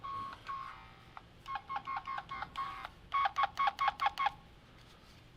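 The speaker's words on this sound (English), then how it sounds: "Toner's gonna make a funny sound like this." Electrician's wire toner giving off a warbling electronic beep, a steady tone at first, then rapid pulsing bursts in quick rhythmic runs, fairly faint over a low background hiss.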